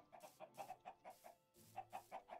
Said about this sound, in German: So viele Hühner.